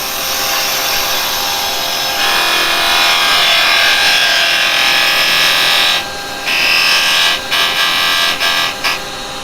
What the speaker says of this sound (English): I'm going to use my square carbide because I know this is going to give me a nice square bottom on here